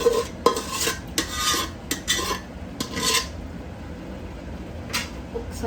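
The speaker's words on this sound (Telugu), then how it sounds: "సో ఇప్పుడు నేను చికెన్ యాడ్ చేసుకుంటున్నాను." Overnight-marinated chicken is stirred into a biryani pot, with scraping and clinking of a metal spoon against the pan in irregular close bursts and quieter gaps between them.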